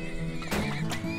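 Horses neigh in the video game Turmoil. A short whinny rises out of a constant tonal game backdrop, with a faint clopping rhythm and no speech.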